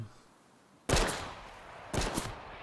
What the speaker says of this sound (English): Someone's shooting at me here